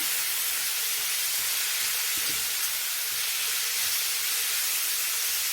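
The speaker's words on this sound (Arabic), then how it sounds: "هنا بقى انا نزلت بالخضار بقى يا بنات، بسم الله ما شاء الله، بالفلفل الالوان وبصله." Onion and coloured bell peppers sizzle in a hot pan, making a dense, even hiss that holds steady, with only a brief soft knock partway through.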